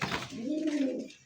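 Close pigeon cooing, a single drawn-out low coo from a giraffe-necked beauty pigeon offered among satin and Bombay breeds at a wholesale pigeon sale, with faint background murmur.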